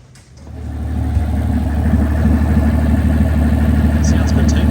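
A Mercedes V12 freshly installed and just started for the first time settles into a smooth, steady idle with open exhausts, rising quickly from quiet to a loud, even rumble that holds; a voice speaks briefly over it.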